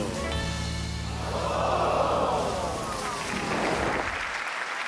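Cartoon stage storm effect in a theatre setting: a low sustained tone gives way to a rushing, hissing swell like wind and rain that rises and fades, fairly loud and continuous.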